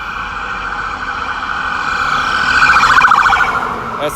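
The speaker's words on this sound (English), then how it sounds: "That's an ambulance." An ambulance siren wails from a passing vehicle on a highway, rising in loudness as it approaches, over steady traffic noise.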